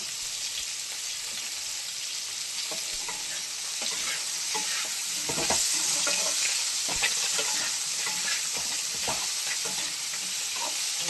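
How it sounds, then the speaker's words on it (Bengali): Steady crackling sizzle of food frying with turmeric and salt in a pan, with intermittent scraping and stirring clicks throughout; no voices. "ভাজাটা আমাদের একটু ভাজা ভাজা করে নেব।"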